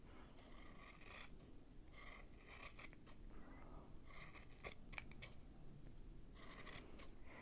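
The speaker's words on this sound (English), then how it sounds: "Now cut through all of the loops of the yarn with your scissors." Scissors snip and rasp through bundled loops of yarn while making a pom-pom for a Fourth of July garland, several close, scratchy bursts of cutting in a row with no talk.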